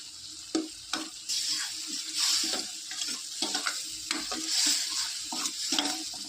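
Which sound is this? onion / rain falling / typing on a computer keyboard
onion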